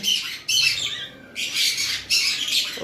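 A sun conure parrot held in the hand gives loud, harsh squawks in several bursts close by, with no talk over them.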